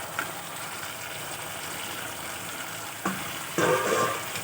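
Fried pointed gourd and potato pieces drop into a hot pan of oil for a vegetarian paneer curry, giving a steady low sizzle that jumps louder in two bursts near the end as they land and are stirred.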